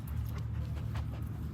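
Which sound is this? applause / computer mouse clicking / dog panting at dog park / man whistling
dog panting at dog park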